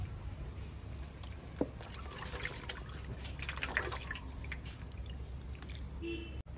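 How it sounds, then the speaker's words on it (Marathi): Freshly washed chicken drains in a colander, with a soft, steady trickle of dripping water and a single brief clink partway through, all fairly quiet. "ते आता आपण चाळणीत काढून घेऊया।"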